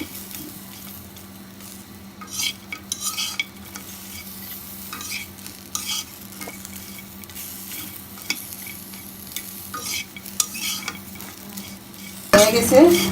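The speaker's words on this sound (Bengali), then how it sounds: "আস্তে আস্তে আমি মাছটা ভেজে নেব।" Dried fish fries in a hot wok, a steady sizzle broken by repeated scraping stirs of a metal utensil against the pan, close and without talk.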